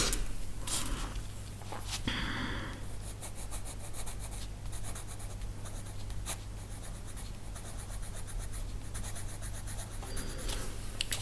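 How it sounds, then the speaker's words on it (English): A black colored pencil shades paper in a coloring book with a steady, close scratchy rubbing of quick back-and-forth strokes, broken by a few brief pauses and taps. No one speaks. "color in these bits here with my black pencil now. Shade them."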